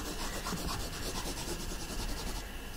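Steady, continuous rubbing of a drawing tool across paper while sand and a beach are sketched in, a close, dry scratchy texture with no talk.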